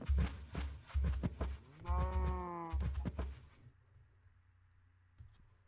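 A Minecraft cow moos in the game, a few low, drawn-out calls in close succession with a clear tonal middle note, moderately loud and then fading into near quiet, no speech over it.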